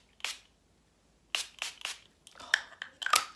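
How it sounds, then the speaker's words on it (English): An e.l.f. Aqua Primer Mist spray bottle gives a series of short, close, hissing spritzes, one alone and then several in quick succession, in a quiet room. "I also got the e.l.f. Aqua Mist, Aqua Primer Mist. It's really good. It sprays like this."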